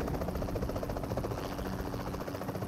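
A helicopter in the mobile battle royale game PUBG Mobile drones steadily, its rotor producing a loud continuous buzzing chop with no other sounds.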